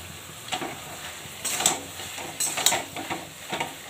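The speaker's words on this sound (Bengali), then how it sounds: "তরকারিটা হচ্ছে, আর উচ্ছে ভাজা হচ্ছে" Bitter gourd frying alongside a simmering vegetarian curry in a pan, a steady sizzle broken by several louder hissing swells as the pieces are stirred, with no talking.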